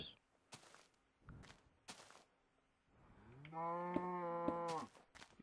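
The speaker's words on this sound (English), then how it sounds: "Move, cow." A Minecraft cow gives a loud, drawn-out moo with a rich, steady tone lasting about a second and a half. It comes near the end, after a few scattered clicks and block-placing sounds.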